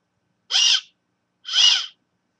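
An acorn whistle blown softly, two separate short breathy hoots, each about half a second long with a pause between them, close and clear against silence.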